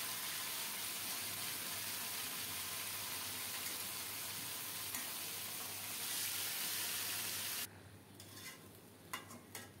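Marinated chicken pieces hit hot oil already sizzling with chopped onion and torn bay leaves, giving a loud, dense crackle for most of the stretch that suddenly drops away near the end, leaving a quieter hiss with a few clatters.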